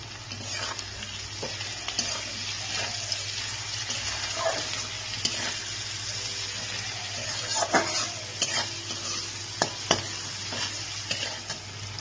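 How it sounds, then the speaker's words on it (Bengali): Onions frying in a pan with salt and turmeric for a spicy pomfret fish curry, a continuous moderate sizzle punctuated by irregular scraping clicks of a spatula stirring, with no voices. "পেঁয়াজটাকে নুন হলুদ দিয়ে কিছুক্ষণ ভাজার পর"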